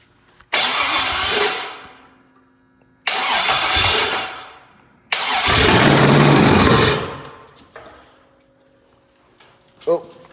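The starter cranks an LS-swapped Cadillac engine in three loud, close bursts with pauses between, the third the longest, followed by a brief mechanical clunk.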